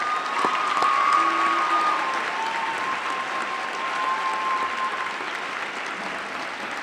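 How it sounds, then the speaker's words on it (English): Sustained audience applause for the Jefferson High Gospel Choir at a State of the City event, a dense, steady wash of clapping that holds loud for several seconds and eases slightly toward the end. "let's give one more round of applause for the Jefferson High Gospel"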